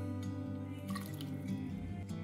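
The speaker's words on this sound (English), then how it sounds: "first I'm straining the broth, then I'm adding a portion of noodles to it." Pho broth is strained, the liquid pouring and dripping steadily and close by, with no talk.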